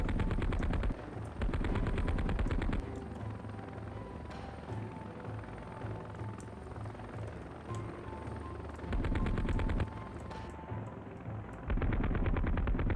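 Rapid machine gun bursts in a video game come in three or four loud stretches of quick, evenly spaced shots over a steady helicopter-like rotor drone, with quieter rumbling between the bursts.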